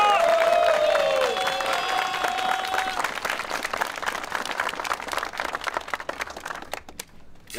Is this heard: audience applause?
yes